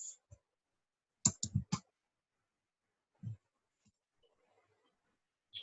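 A handful of sharp key clicks from typing code on a computer keyboard, a quick burst of four close together after a single tap, then scattered isolated presses, near and crisp against silence.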